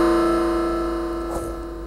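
Harsh, buzzy metallic tone from a DIY percussion synth, two square waves mixed through an XOR gate and a BJT VCA, holding steady and loud for the whole stretch with no talk.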